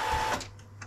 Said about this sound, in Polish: Teraz to sprawdzimy w momencie, kiedy czekam, aż Epson się wypierze.